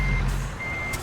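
A semi truck's engine rumbles steadily while maneuvering into a right turn, with a faint high reversing beep sounding over the low drone.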